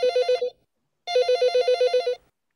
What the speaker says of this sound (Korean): 여기서 유리 씨가 전화할 때 누가 받을지 who get the phone 알아요